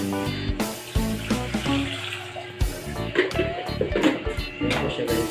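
Water poured into a cooking pot for sinigang with dilis and malunggay, a splashing, running stream mixed with clatter of the pot and utensils, close and fairly loud, with brief voices in the background.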